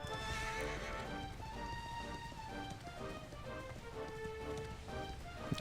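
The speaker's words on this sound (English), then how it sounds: "Now that my horse hailer works again." A horse summoned with a horse hailer in the video game Dragon Quest XI S arrives with a clear whinny and galloping clip-clop hooves over a soft rain-like ambient bed.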